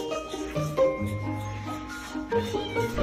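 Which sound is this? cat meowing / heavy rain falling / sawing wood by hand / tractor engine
cat meowing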